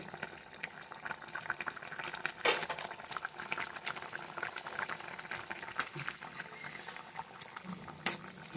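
Fish curry with potatoes simmering in a pot, a soft continuous bubbling with scattered pops and a couple of brief clinks, quiet and close.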